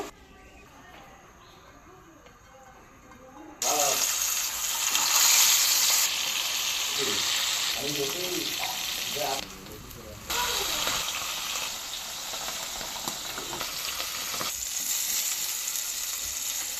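Fish frying in hot oil, with garlic as a possible ingredient, sizzles loudly and steadily in a pan at close range. Stirring and clattering from the pan break in now and then, and a voice is heard at times.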